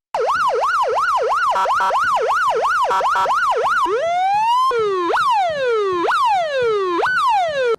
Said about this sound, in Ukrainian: увімкнути сирени патрульної поліцейської автівки